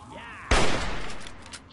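A gunshot headshot in Fallout 3, one sharp loud blast cutting through a quiet hum, then a decaying rumble and faint clatter.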